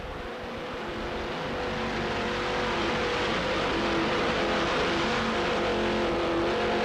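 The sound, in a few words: Heavy Metal 42-foot offshore powerboat engines racing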